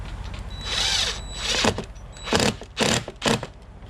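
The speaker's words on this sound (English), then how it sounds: "Alright, now we're going to put the screws in." A power drill drives screws into a door during doorknob installation, its motor whirring in short bursts: one longer run, then several quick pulses close up, with no voices.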